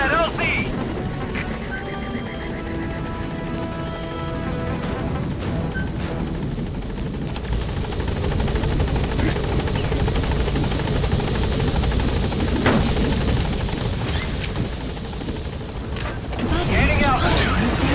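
The B-Quad helicopter in Metal Gear Solid 5 approaches the landing zone, rotor chop and engine whine loud and continuous and drawing near, with a radio voice speaking over it.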